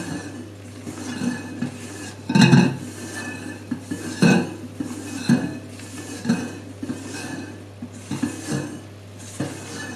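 Aquafaba (chickpea water) meringue being gently folded in a mixing bowl, with a spatula repeatedly scraping and knocking against the bowl in irregular clinks over a soft continuous hum.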